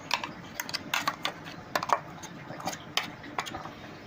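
Prawns being worked by hand or spoon into a ground paste of black and white mustard, poppy seed and green chilli in a bowl, giving irregular soft clicks and wet squelches close by, with no talk.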